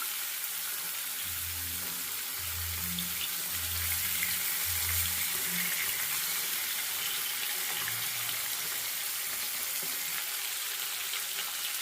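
Tilapia fish frying in oil gives a steady, broad sizzle that stays close and continuous, with soft low thumps and clatter underneath.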